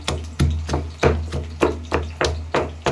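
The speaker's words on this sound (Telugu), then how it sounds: "అల్లం వెల్లుల్లి పేస్ట్, వెల్లిపాయలు, అల్లం, పచ్చిమిర్చి 3 మిక్స్ చేసి అయితే దంచుకుంటున్నాను." Ginger, garlic, onions and green chillies pounded together with a pestle, about nine evenly spaced dull thuds at a steady rhythm, close by over a constant low hum.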